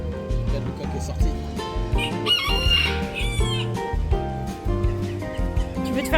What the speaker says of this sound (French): Le coq est sorti.